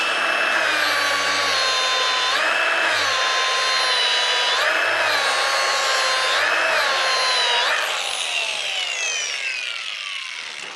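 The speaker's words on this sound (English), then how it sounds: "That weld is now ready to sand out and start polishing." A power tool with pitch-shifting whine sands and polishes a stainless steel butt weld, running loud and continuous for several seconds before winding down at the end.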